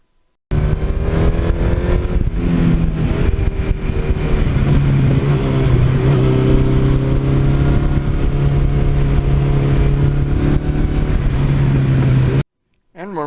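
A Suzuki GS1100E big-bore 1100 motorcycle engine revs loudly and continuously for about twelve seconds, the pitch rising and settling as the throttle opens, then cuts off abruptly.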